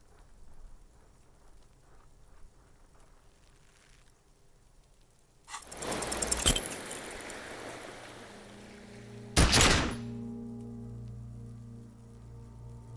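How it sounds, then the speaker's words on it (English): A gunshot fired in the video game Disco Elysium, two loud sharp blasts several seconds apart, each followed by a lingering ringing tail over a quiet ambient background. "A plume of smoke erupts from the barrel. Your hand goes numb from the explosion."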